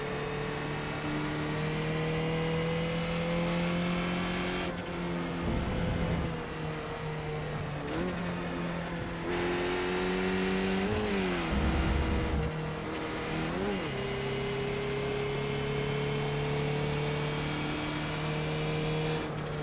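Skip Barber race car in iRacing, its engine droning loud and steady through high revs, dipping and climbing again at each gear change and corner, heard from the cockpit with no voices.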